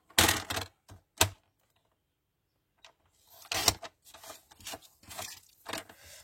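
Paper being cut for a handbag craft, loud crisp bursts of cutting and handling in two groups separated by near silence, with no one speaking.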